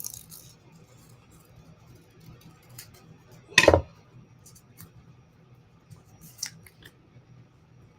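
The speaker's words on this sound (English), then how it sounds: "cut me out a little heart just for no reason" Scissors snip once through paper while a small heart is cut out for a junk journal page, a single short close crunch in an otherwise quiet room with faint handling noises around it.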